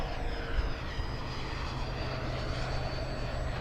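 A Taft Hobby Valkyrie 90mm electric ducted fan RC jet makes a full-throttle high-speed pass, giving a steady loud whine and rushing roar throughout with a faint high tone on top.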